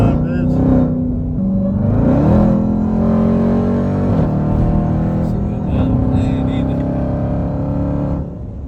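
A car engine whines and revs up and down close by, with rising and falling tones and a raspy edge, while someone talks over it.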